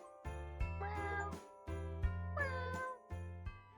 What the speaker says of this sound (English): Each cat had their own name and meow to go along with them.